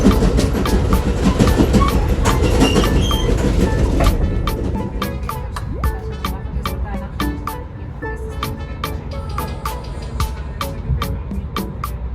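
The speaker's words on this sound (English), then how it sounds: "here's our clip from our ride on Amtrak Southwest Chief" Inside a moving Amtrak Southwest Chief passenger car, a loud rumbling ride with repeated sharp rail clicks and clatter; the roar eases after a few seconds while the rhythmic clacks continue.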